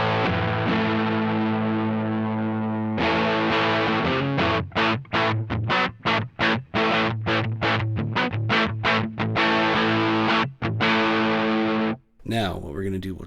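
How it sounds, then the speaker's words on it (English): An electric guitar played through the Sunrise amplifier's built-in distortion: thick, saturated sustained chords, then a run of choppy, rhythmic stabs with short gaps, ending on a brief scratchy strum, loud and close. "So this is the Sunrise with its own distortion."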